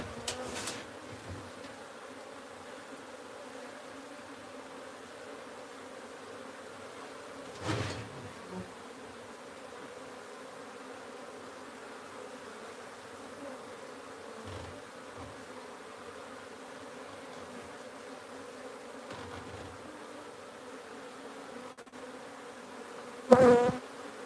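Honey bees from a wild hive being moved into a new box drone in a low, steady buzz throughout, with a few louder close passes and handling knocks breaking through.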